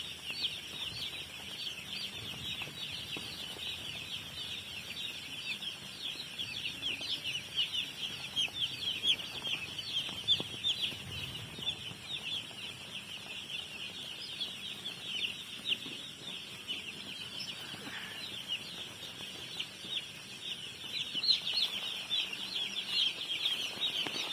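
A flock of hens with newly hatched chicks, continuous high-pitched peeping and chirping from many chicks close by, with soft clucks and occasional wing flutters underneath.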